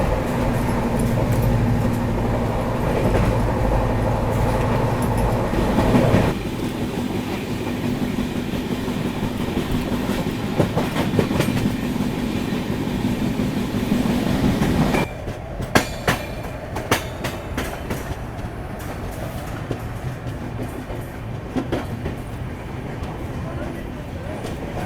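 Inside the 12303 Poorva Express from Howrah to New Delhi, a steady rolling rumble of carriages on rails, then lighter clickety-clack over joints with a few metallic knocks, with no one talking.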